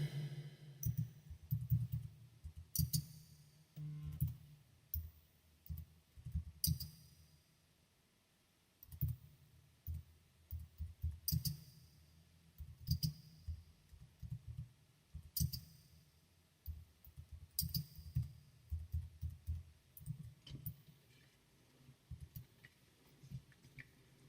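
Computer keyboard typing, soft scattered key clicks in irregular bursts, faint and close, with no talking over it.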